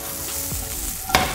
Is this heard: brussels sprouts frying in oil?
yes